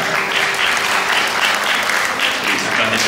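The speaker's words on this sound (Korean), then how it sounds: "여러분 다시 한번 따뜻한 박수 부탁드립니다." Wedding guests at a wedding hall ceremony applaud the ring exchange, a loud, dense, even round of clapping that fills the room without letup.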